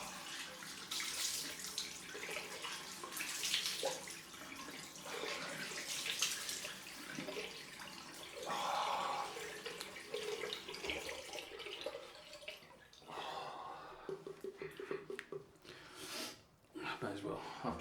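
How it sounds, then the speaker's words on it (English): Cold water running from a bathroom tap for a post-shave splash, a steady hissing splash that varies as hands move through the stream, with close splashing and brief sniffs near the end. "Get some nice cold water running."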